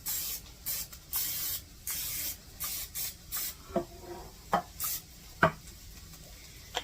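Repeated short hissing bursts of aerosol cooking spray on baking pans, several quick spritzes in an irregular rhythm, close up with no talking.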